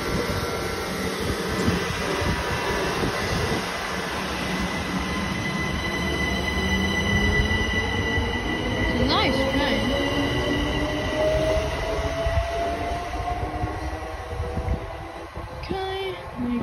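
Class 375 four-coach electric train powering away from Wye station, its traction motors rising in a climbing whine over rumbling wheels, with brief squeals, heard from trackside at moderate loudness.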